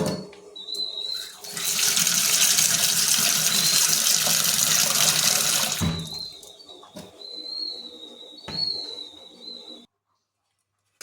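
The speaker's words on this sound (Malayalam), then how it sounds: "വെള്ളത്തിലൊന്ന് കഴുകി വാരിയെടുത്ത് വയ്ക്കാം." Flattened rice (aval) is rinsed in water, giving a few seconds of steady splashing and running water, with birds chirping and whistling in the background before and after.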